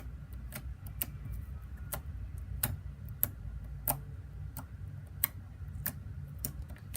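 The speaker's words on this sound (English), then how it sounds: "So I'll just show you some poking sound." Fluffy slime is poked repeatedly, giving soft sticky ticks and pops at an irregular, fairly steady pace, faint and close with no talk.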